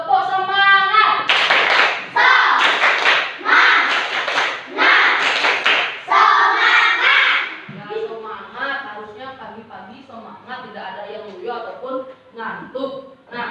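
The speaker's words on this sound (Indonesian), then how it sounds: "sebelum mulai tepuk semangat" A classroom of pupils and their teacher performing a rhythmic clapping chant, sharp patterned claps mixed with loud group chanting voices, then fading into lighter talk and scattered taps.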